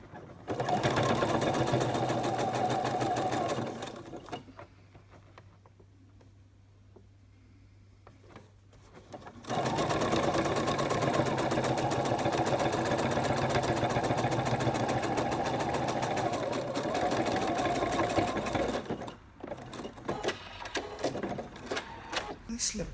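Sewing machine stitching a bag's slip pocket closed, a loud steady motor whir in two long runs separated by a quiet pause, ending in short stop-start bursts.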